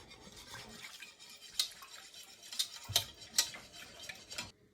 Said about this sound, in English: Now mix the wet ingredients together until combined.